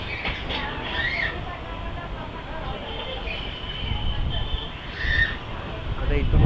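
Mumbai local train approaching a station near Churchgate, a steady rumbling rattle of the carriages with high squealing brake or wheel tones rising and fading, heard from inside the train.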